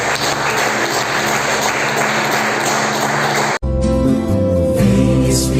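A church congregation claps in praise: dense, continuous clapping over steady worship music, cutting abruptly into a clearer sung passage near the end.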